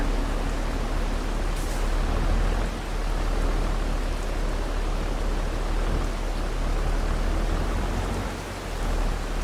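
Steady, heavy rain in a farming video game hisses continuously with a low rumble underneath, loud and unbroken for the whole stretch.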